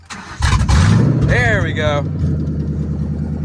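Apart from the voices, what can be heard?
Ford Mustang GT engine cold start with header dump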